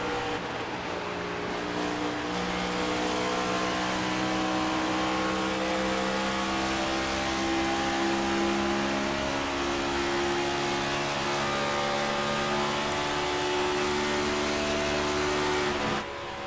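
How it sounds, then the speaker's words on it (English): Several race cars in the iRacing sim racing game run together in a string at Michigan, a steady loud engine drone holding throughout with layered harmonic tones and no talk. "So decent sized string of cars going, behind him right now."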